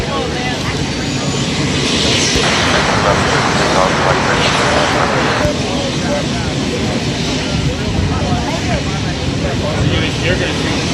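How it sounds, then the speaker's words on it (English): An airplane takes off from runway 32 left at Boeing Field in Seattle. A steady, loud engine roar fills the whole stretch, mixed with wind and background noise, and air traffic radio talk is heard over it. "5 straight out now, runway 32 left, just take off, wind 27010."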